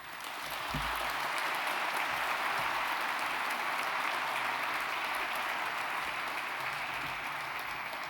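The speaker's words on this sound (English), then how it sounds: "Let's give one more round of applause to them." Applause for winners at a journalism awards ceremony: a large audience breaks into loud, sustained clapping after a brief thump, holding steady to the end.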